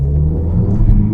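Volkswagen Polo GTI with a Stage 1 tune pulls hard out of a corner, its engine a steady, loud low rumble that swells slightly as it accelerates, heard from inside the car with no talk.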